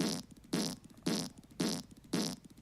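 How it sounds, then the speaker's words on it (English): Comic fart sound effect repeating five times at a steady half-second rhythm, each burst loud and close with a buzzy, sputtering tone, and no voices over it. "Farting all the time, that noise."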